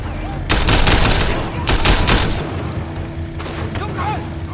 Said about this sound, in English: Covering fire while she drives